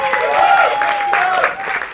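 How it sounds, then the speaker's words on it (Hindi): An audience claps at a song launch event, a moderately loud patter of applause heard under a voice speaking over a microphone. "एक बार जोरदार ताली होनी चाहिए"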